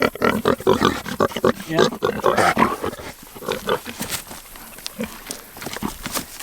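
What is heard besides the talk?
pig grunting on the farm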